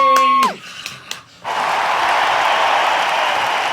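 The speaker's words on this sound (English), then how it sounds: "Big applause." Audience applause at a quiz-style interview: after a brief tonal cry, a crowd breaks into loud, sustained clapping that carries on evenly to the end.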